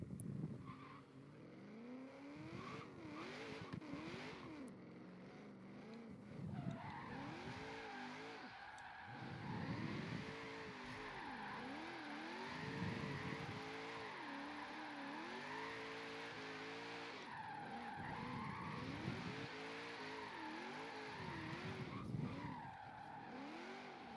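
A race car in a racing video game drives a course preview run, with engine revving and repeated tire squeals and skids through the corners. The sound is steady and continuous throughout.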